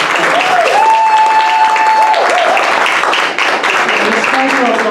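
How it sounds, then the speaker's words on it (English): Steady applause from an audience at a student awards ceremony fills the whole stretch, with a sustained tone and some voices mixed in beneath the clapping. "Please give them all a round of applause."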